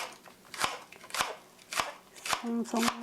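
A knife slices Welsh onion on a cutting board in a series of crisp, evenly spaced chops, close and fairly quiet, with a faint voice near the end.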